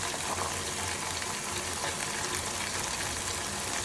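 Dried red chilies and ground spices (chili powder, turmeric, cumin and coriander powder) fry in a pan with a loud, steady, close sizzle that crackles without pause.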